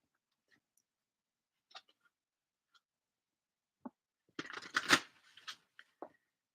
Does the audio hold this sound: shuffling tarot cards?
yes